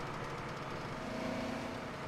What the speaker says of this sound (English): Gotta love the sound with this tractor here as well.